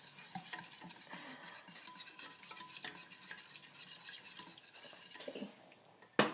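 Utensil stirring a chocolate mixture in a bowl, with soft repeated scraping and light clinks in a quiet kitchen, ending with a sharper knock.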